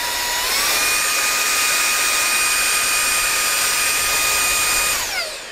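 A Mondzucker VX Mini cordless hand vacuum on its high speed setting lets out a loud, close, steady high-pitched whine with rushing air, and the pitch climbs at the start and drops away as it switches off near the end.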